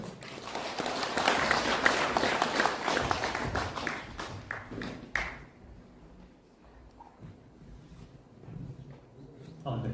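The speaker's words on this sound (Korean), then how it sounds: "박수로 맞이해주세요" Applause rises from the audience at an academic seminar in Korea to welcome the next speaker, dense clapping that fades out after about five seconds, leaving a quiet room with a faint voice.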